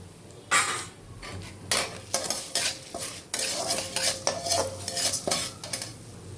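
Urad dal, chana dal and coriander seeds dry-roasting for curry leaf powder, stirred briskly with a metal spoon in a pan, giving rapid, loud, close scraping and rattling strokes in an uneven rhythm, no voices.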